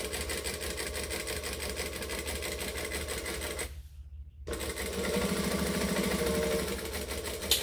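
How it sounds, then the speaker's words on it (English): A sewing machine runs steadily, stitching both sides of a seam on a fabric tote bag, with a brief pause partway through before it starts stitching again. The motor whirs close and loud with no talk. "I'm going to stitch either side of the line"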